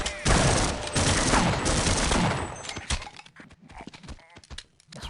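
Rapid gunfire bursts in the video game Half-Life: dense, loud volleys of shots filling the first three seconds, then sparser individual cracks and impacts.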